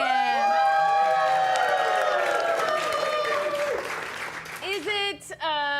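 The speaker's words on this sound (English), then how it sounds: "We're gonna applaud at least a little for everybody" Audience applause mixed with cheering, with loud whistles and whoops riding over the clapping, which thins out toward the end as a voice breaks in.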